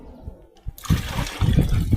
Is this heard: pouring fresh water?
yes